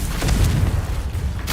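Confringo explosion spell going off in the game Hogwarts Legacy, a loud, sustained deep boom with rumbling low-end energy filling the short moment, no talking over it.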